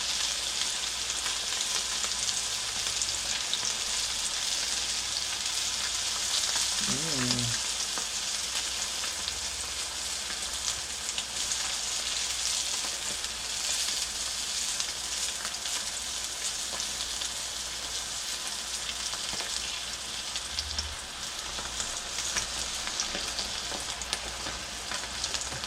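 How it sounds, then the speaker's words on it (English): Grunion fillets coated in cornstarch slurry sizzle steadily in hot oil, a dense, even crackle that runs for the whole stretch, with one brief stir or flip partway through. "just put it in your cornstarch slurry, and then we're gonna get frying"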